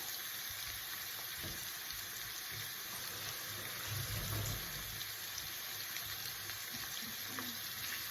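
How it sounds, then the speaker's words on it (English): Pork mince frying with leek soffritto in a pan for a quick Sicilian-style pork and fennel sugo makes a continuous, even sizzle and hiss, with faint stirring bumps rising briefly midway. "I've got about 300 grams of pork mince, which I'm going to add."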